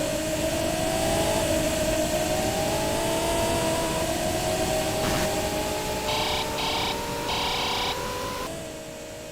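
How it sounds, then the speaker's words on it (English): Race car motor from the Sega Genesis game Super Monaco GP, a continuous synthesized engine drone whose pitch climbs and shifts through gear changes, with short electronic beeps midway before the tone drops near the end. "During races, you are normally accompanied only by your car's motor."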